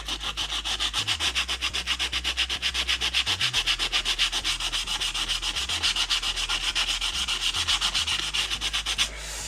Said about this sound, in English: it's hard to sand the metal part without catching the black plastic part of the track